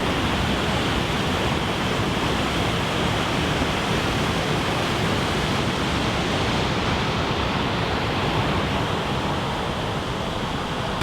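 Water roars steadily over the dam on the muddy, high-running Ganaraska River, a loud, dense, unbroken rush that fills the whole clip with no voices.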